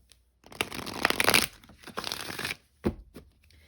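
Oracle cards being shuffled by hand, with a few crisp riffling bursts close to the mic separated by short pauses, then one brief final snap.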